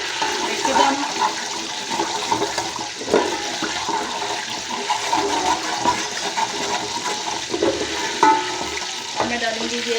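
Curry leaves, cumin and fenugreek seeds hit hot oil for Pakistani kadhi pakora, a loud, close, continuous crackling sizzle with occasional pops and utensil clinks throughout.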